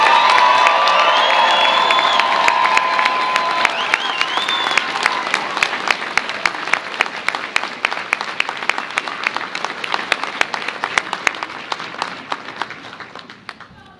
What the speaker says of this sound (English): One more time, a huge round of applause to the UNM-Taos class of 2026.